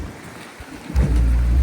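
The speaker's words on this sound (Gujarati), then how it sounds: "ઝીણા ઝીણા કરા પડે છે" Small hail falls during a thunderstorm, heard first as faint scattered patter and then, about a second in, as a sudden loud, low rumbling roar of the storm.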